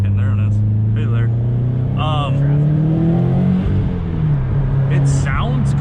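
A 2017 Audi S3 Stage 2 engine pulls hard while driving, its rising drone climbing through the revs with brief turbo chirps and blow-off hisses, heard from inside the cabin under a driver's talk.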